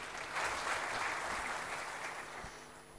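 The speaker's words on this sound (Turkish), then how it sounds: "alkışlarınızla sahneye davet ediyorum" Audience applause at a conference opening as a brigadier general is welcomed to the stage, a soft continuous wash of clapping that swells briefly and then fades, heard at a distance.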